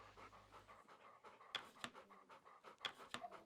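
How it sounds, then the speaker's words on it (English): Close, rhythmic dog panting in the video game The Pale Beyond, quick breathy huffs repeating steadily and fairly quiet, with a couple of sharper clicks over a soft ambient background. "The dog panting in my ear is getting kind of weird and freaky."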